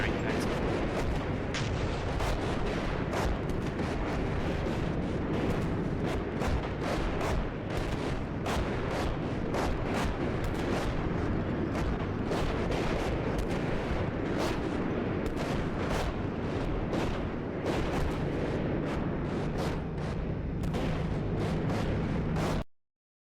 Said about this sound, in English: All Bravo elements continue to retrograde or tend to be displaced to avoid artillery impact.